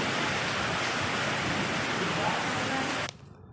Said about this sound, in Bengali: বলতে বলতেই ঝড় বৃষ্টি চলে এসছে।